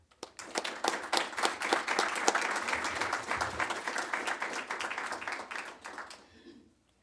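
An audience at a talk claps to welcome Julie Kiriakov Caswell, a broadcaster with the Voice of America's Bulgarian edition. The dense, steady applause holds for about six seconds and then fades out.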